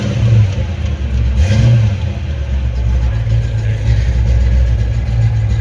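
A 1983 Ford Mustang GT Fox body engine runs loud and close, its low throaty rumble swelling in a couple of revs before settling into a steady idle.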